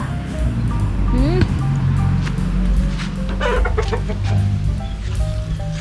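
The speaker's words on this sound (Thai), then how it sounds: "นี่คือไก่" Chickens clucking on a rural farm during an unseasonably cold, rainy April, steady soft clucks and calls over continuous low background noise, with no one talking.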